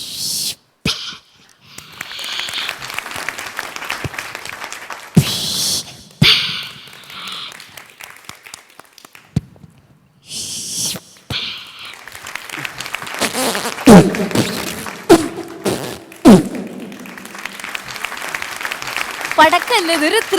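A voice mimics firecrackers bursting like Thrissur Pooram fireworks: sharp, noisy pops and whip-like cracks in irregular clusters, mixed with breathy hisses and talk between the bursts.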